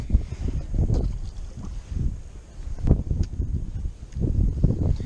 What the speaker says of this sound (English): The wind is blowing really hard